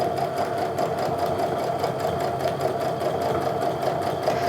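A sewing machine runs steadily up close, top stitching quilting cotton for a bag with a regular quilting needle, its fast rhythmic needle chatter continuous throughout with no voices.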